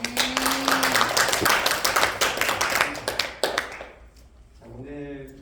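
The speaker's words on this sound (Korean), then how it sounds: "이 모든 것을 허락하신 하나님께 영광의 박수를 드립니다." An audience in a church training session claps together, a burst of fairly close, rhythmic hand claps that fades out, followed by a brief spoken voice at the end.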